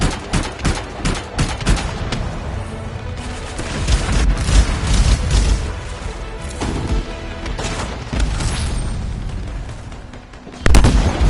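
Loud bursts of gunfire and booming blasts in Anthem, dense and chaotic at first, then rolling rumbling explosions from bombs on scar weapon stockpiles, fading briefly before a sharp final boom.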